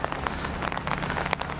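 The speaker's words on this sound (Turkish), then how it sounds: "Yağmur başladı." Rain falls outdoors near Yulong Mountain in China, a quiet patter of scattered drops tapping a surface.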